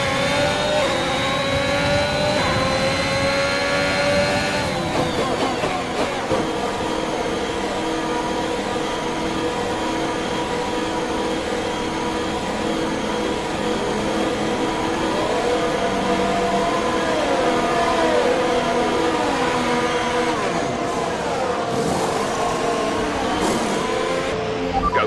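A Formula 1 car in the F1 2021 racing game accelerates back to racing speed, its high engine whine climbing steadily through the gears, loud and continuous across the whole stretch.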